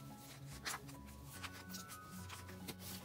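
K-pop photo cards and a crew card being handled and put away make quiet close rustling, sliding and rubbing sounds, with small shuffles and taps and no talking.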